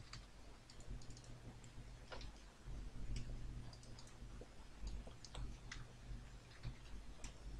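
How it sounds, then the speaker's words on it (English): Quiet clicking of keys on a computer keyboard while editing a PDF file offline, scattered light taps over a low background hum. "And you can type over there whatever you want."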